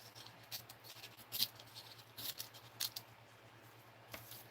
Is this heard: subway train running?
no